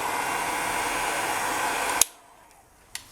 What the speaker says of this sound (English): so I'm going to heat gun that